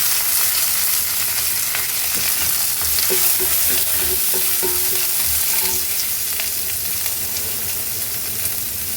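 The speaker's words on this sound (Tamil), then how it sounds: "வெங்காயம் கொஞ்சம் நல்லா வதங்கட்டும்." Steady sizzling of onions frying in a hot pan, with occasional stirring scrapes and clinks, close and continuous, no talking.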